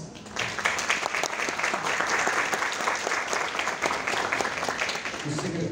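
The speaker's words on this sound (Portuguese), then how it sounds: "Por favor, as palmas." Audience at a formal induction ceremony of a letters and arts academy breaks into sustained applause, a dense, even roar of clapping from a sizeable crowd lasting several seconds before easing slightly at the end.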